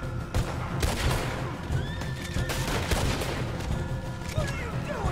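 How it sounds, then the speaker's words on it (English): A horse whinnies in the Red Dead Redemption 2 video game, its calls brief and mid-distance, mixed into a busy game soundscape with gunfire, hooves and some speech. "Oh, that's a horse."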